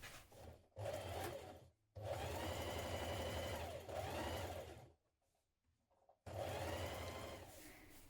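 A sewing machine stitches coat collar pieces for a vintage-style coat, running in steady whirring bursts with short pauses between runs, close and clear with no talk.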